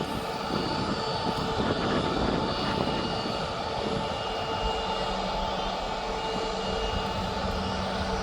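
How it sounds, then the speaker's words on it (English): A Baku-registered Boeing 777 freighter taxis toward the freight terminal at Birmingham airport, a steady broad engine rumble and whine holding at moderate distance throughout with no voices. "you got that Baku freighter going over to the freight terminal"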